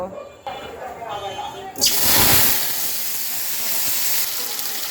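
Cut new potatoes drop into hot oil, bursting into a loud, steady sizzle that starts abruptly and keeps hissing evenly, close by, after a quieter opening with a voice faintly present.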